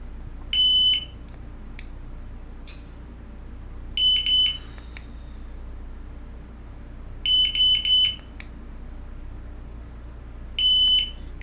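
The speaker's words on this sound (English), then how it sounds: "one beep is the most sensitive, and all the way up to 3 beeps, which is the least sensitive" An Eesens Guardian alarm emits short groups of high electronic beeps, one, two, three and one again, separated by quiet gaps, loud and close with nobody speaking.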